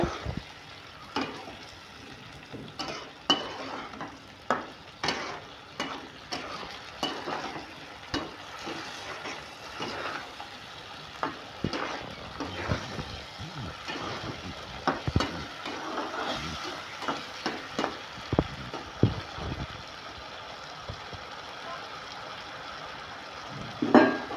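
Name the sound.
stirring and frying steamed egg mixture with tomato sauce in a pan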